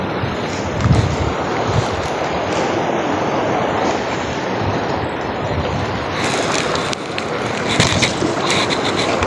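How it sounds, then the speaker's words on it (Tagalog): Strong sea waves and wind batter a small fishing boat, a loud, constant, close churning wash with splashes and thuds against the hull, mixed with hiss from wind across the microphone. "Hala, ba't lumakas ang alon?"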